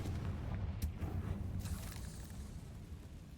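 Confringo blasting curse explosion in Hogwarts Legacy, a deep booming blast followed by a rumbling roar that slowly fades, loud and alone.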